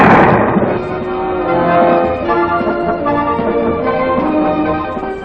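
A 60mm mortar firing rounds in the field, a loud sharp blast that rings out into a long rumbling, echoing decay.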